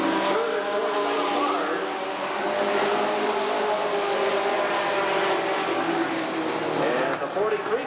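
Sportsman race cars roaring around the Redwood Acres Raceway oval at a 1991 main event, a continuous loud engine drone with rising and falling pitch as cars pass, while an announcer calls the race over it.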